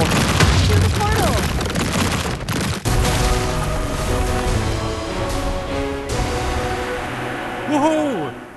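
Portal destruction in the Minecraft Legends video game, with dense booming explosions and rumbling impacts piling up continuously, loud and close, over busy game music and effects, with a voice speaking briefly.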